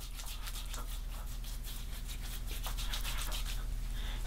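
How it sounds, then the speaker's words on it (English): Fingertips rub pre-shave oil into a wet beard, producing close, soft, continuous scratchy rubbing with quick rhythmic strokes over a low steady background hum. "Let's take a little bit of this Proraso pre-shave in the fingertips, massage that right into the beard."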